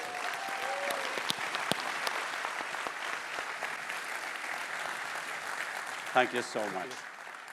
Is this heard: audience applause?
yes